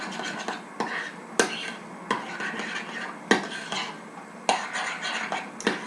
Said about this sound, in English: Now, I'm going to have to stir it up some more.